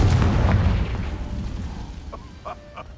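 A Confringo spell explosion in Hogwarts Legacy: one loud, booming burst that opens the clip and rumbles down over about a second, followed by a few faint, short pops.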